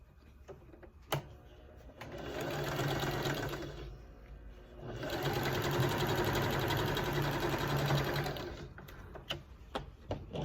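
A sewing machine stitches pieces of a quilt square in two close bursts of fast, even needle strokes, the second longer, separated by a pause with faint handling clicks.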